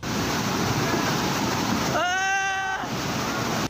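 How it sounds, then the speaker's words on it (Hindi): Strong flood water rushes across a road and sweeps a car along, flipping it over several times; a loud, steady roar of torrential water runs throughout, with a brief tonal sound partway through. "पानी का बहाव इतना तेज था कि उसने गाड़ी को चंद सेकंड में कई बार पलट दिया।"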